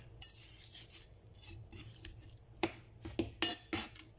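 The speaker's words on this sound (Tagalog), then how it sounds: "Maghiwa ako ng chicken." Knife cutting raw chicken on a board in a home kitchen, a run of close, uneven scraping strokes and sharp clicks that grow sharper and more frequent toward the end, with no talking.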